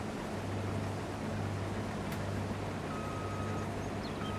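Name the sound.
combine harvester engine in Farming Simulator video game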